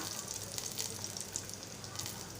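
Mustard seeds, cumin and curry leaves sizzle in hot oil, a soft continuous crackling hiss with faint pops, fairly quiet and without talk.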